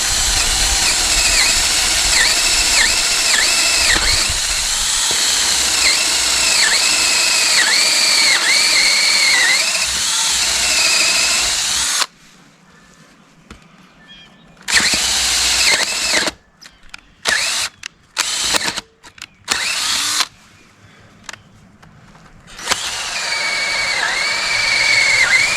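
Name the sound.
power drill drilling into fence post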